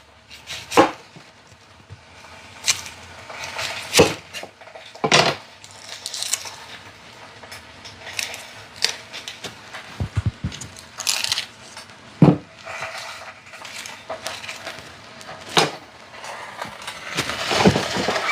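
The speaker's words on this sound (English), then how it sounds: "All right, let's chop this up." Knife chopping an onion on a cutting board while cooking spaghetti with meat sauce, sharp irregular thuds spaced apart, some in quick pairs, close and fairly loud with no talk.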